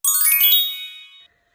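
A mobile phone rings with a short bright chime, a quick tinkling run of clear tones that rings out for about a second and then stops, close and alone, with no voices.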